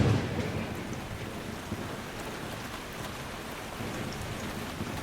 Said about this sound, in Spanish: La lluvia nos obligó a pararnos a procesar todo lo vivido.